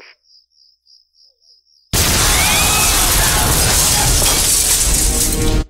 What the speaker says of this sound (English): And of course, boom, explosion.